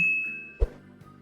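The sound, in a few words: notification bell ding sound effect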